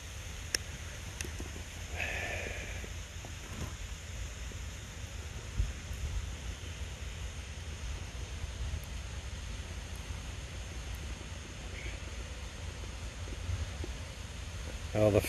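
Wind blows steadily outdoors in a low rushing rumble across the microphone, continuous and moderate, with occasional faint knocks and someone speaking at times.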